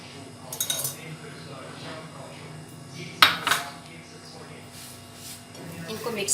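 A metal spoon clinks against a steel bowl while boiled potato is mixed with red chili, chaat masala, cumin and salt, giving light scattered scrapes and one sharp clink midway, faint under low room noise.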